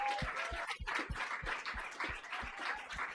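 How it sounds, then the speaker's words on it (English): A faint, distant round of applause for three women performers at a First Nations crowdfunding event, heard as a steady, evenly spaced run of claps. "Can we please give them a huge round of applause?"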